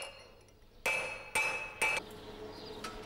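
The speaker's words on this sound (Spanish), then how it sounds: "luego hay que soldarla y finalmente retocar a golpe de martillo." Hammer blows ring on iron at an anvil while forging weathervane letters: three loud, bright metallic strikes about half a second apart, each with a clanging ring, then a fainter tap after a pause.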